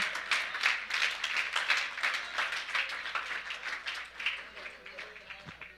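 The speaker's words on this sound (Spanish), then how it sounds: "Démosle un fuerte aplauso al Señor mejor." Church congregation clapping together, a rhythmic, fairly close burst of many hands that beats in a steady pulse and gradually thins out toward the end.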